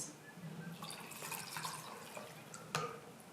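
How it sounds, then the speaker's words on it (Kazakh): Lemon-acid water is poured into a toy volcano, a soft trickle with light drips and splashes, quiet and close, ending in one brief louder splash. "Содан соң біз оны мына жанартаудың ішіне құямыз."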